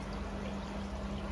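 Water drips and trickles down through the stacked levels of an aquarium filter, a steady continuous splashing flow with a faint hum beneath.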